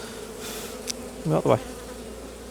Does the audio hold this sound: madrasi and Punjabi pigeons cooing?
no